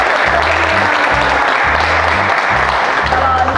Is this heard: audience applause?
yes